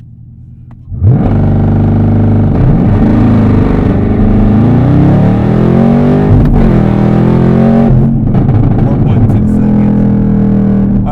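A Chevrolet Camaro ZL1 engine snarls to life from a standstill, revving hard and climbing steadily in pitch through no-lift shifts, loud and close throughout.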